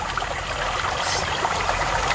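A river flows with a steady, close rushing and trickling wash that holds even and unbroken throughout, with no voices.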